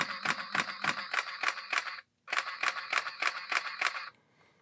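Canon EOS Elan (EOS 100) film SLR firing its shutter in continuous mode: two rapid bursts of crisp mechanical clacks, about eight frames each, separated by a brief pause, close and loud with no talking.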